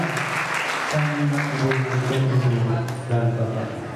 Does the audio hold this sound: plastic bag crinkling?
no